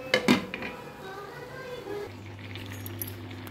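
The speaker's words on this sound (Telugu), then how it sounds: "మూత పెట్టుకుందాం." A metal lid clanks down onto a cooking pot of chow-chow kootu on the stove, one sharp clatter followed by a low steady hum of the burner.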